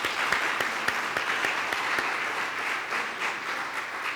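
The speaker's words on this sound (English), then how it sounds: "we can give them applause, sure." An audience at a newspaper's centennial celebration applauds former Herald staff, producing steady, dense clapping that fills the room at moderate loudness for several seconds without talk.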